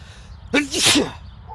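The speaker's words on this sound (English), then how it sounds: "Hold on, I gotta sneeze." A single sharp sneeze, loud and close, with a quick intake of breath before the burst.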